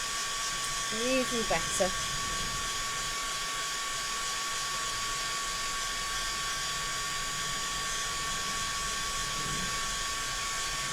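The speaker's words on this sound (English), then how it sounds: "So when you're drying with a heat tool as opposed to things drying naturally, the heat gun sets the surface" A heat gun drying a mixed media artwork on MDF, a steady even electric blower whine running throughout, with someone speaking briefly over it near the start.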